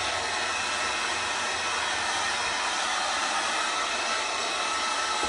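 Heat gun blowing hot air onto kydex sheet, a steady, even whooshing hiss that runs without a break at moderate level with no voices.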